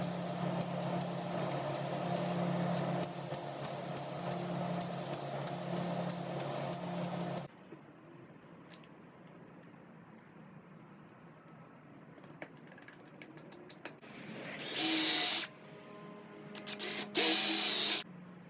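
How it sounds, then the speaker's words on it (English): Lacquer spray finish being applied to small wooden keepsake boxes with box joints: a steady hissing spray runs continuously at first, then after a pause come two short, loud bursts of spraying with quiet gaps between. "All right, we're putting a glass finish on this. We're using lacquer spray."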